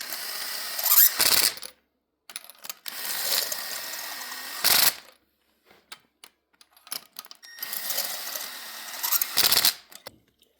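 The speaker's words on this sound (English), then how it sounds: "So I'm gonna use my gun to tighten them up and then torque them down" A power gun spins in new spark plugs on a 2007 Mercedes SLK 280, giving short, close bursts of rapid ratcheting whir separated by silent pauses, with four main runs and a few brief blips between them.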